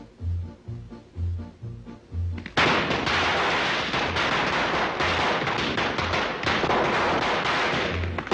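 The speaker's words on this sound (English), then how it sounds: "Here, have an exploding cigar." An exploding cigar goes off in an old Fred Astaire film scene: a sudden loud bang cuts across a soft rhythmic thumping and becomes a dense, sustained burst of noise that lasts several seconds.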